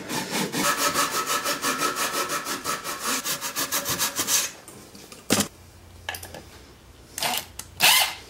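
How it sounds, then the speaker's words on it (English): A dovetail saw cuts notches into wood in fast, rhythmic back-and-forth strokes for about four seconds, close and loud, then stops, followed by a few scattered handling knocks and short scrapes. "I'll just use my dovetail saw and cut out some notches."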